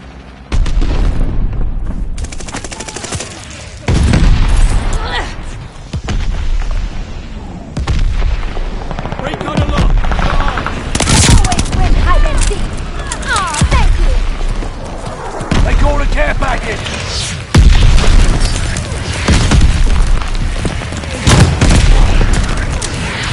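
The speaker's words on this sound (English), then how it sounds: "Friendly mortar fire coming." Mortar fire and explosions in Call of Duty Vanguard, heard as repeated loud, deep booms and blasts in heavy succession, with battlefield gunfire and game voice callouts mixed in.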